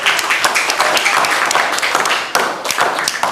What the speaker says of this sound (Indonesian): Berikan tepuk tangan untuk Talita, anak-anak.